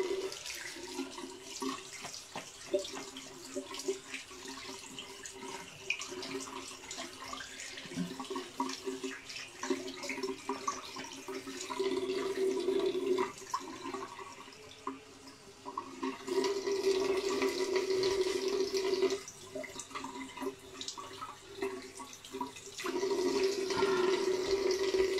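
Ice-cold water runs steadily from a tap while someone rinses off, a continuous splashing, gurgling stream with small shifts in flow lasting the whole stretch, close and fairly loud, with no talking.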